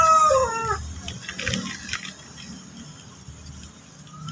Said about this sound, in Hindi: साथ वालों के मुर्गे जो है ना वो भी मुझे अप्रिशिएट कर रहे हैं